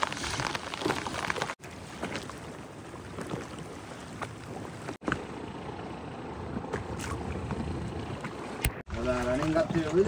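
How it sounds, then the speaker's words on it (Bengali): Rain falling on river water beside a small fishing boat, a dense, steady hiss and patter with a few brief breaks, and people talking over it at times. "বর্ষাও হচ্ছে, বর্ষা থামবে না"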